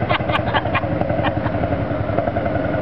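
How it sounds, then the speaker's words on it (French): Threshing machine tractor engine rolling in a parade, a loud, close, rough chugging rumble with rhythmic clattering knocks running steadily throughout. "Dieu, un tracteur de batteuse."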